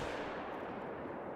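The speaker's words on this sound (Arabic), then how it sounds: "يلا واحد يلا اثنين ثلاثه اضرب يا زلمه" A single hunting-rifle shot rings out in the hunting game theHunter: Call of the Wild, with a short muffled boom and no talk over it.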